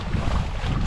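Wind gusts across an open fishing boat on rainy water, a loud, close, steady rush of buffeting noise with no voices.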